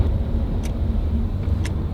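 Steady low rumble of a car engine idling and creeping in evening traffic, with road noise filling the cabin and a couple of faint clicks, loud and continuous with no talking.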